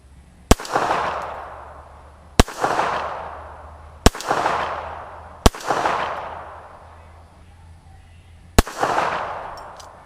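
A Cobra F.S. .380 ACP pistol fires five sharp, loud shots at an outdoor range, spaced irregularly over about eight seconds, each one followed by a long rolling echo, with no talking.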